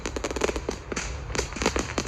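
A Samsung Galaxy A53 phone plays an artificial fireworks effect: crackles and pops in a fast irregular stream, sharp bursts clustering together and then thinning out, heard without speech.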